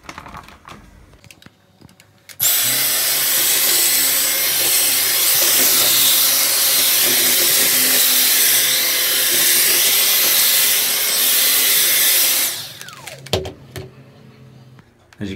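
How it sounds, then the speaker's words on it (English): Dyson V6 cordless vacuum cleaner sucking up breakfast cereal from a floor: a loud, steady high-pitched whine with rattling debris that runs for about ten seconds, with handling clicks before and after. "it had no problem whatsoever sucking up the cereal"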